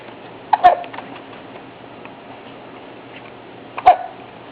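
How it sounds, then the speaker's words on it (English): A baby hiccups twice, several seconds apart, each a short sharp catch standing out clearly against a quiet room. "Hiccups. Hiccups. That's yucky."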